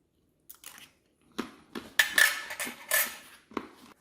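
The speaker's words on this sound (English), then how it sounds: "So let's try a cracker." A crunchy cracker from a Kazakhstan Army 24-hour halal breakfast ration is bitten and chewed, giving a few sharp, close crunches between quiet pauses, with faint clinks alongside.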